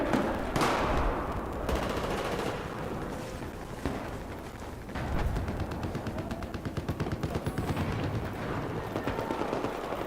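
Burst-fire M4 rifle gunfire in a Battlefield video game: rapid clusters of shots crackle amid distant battle noise and explosions, growing denser and more rhythmic toward the end.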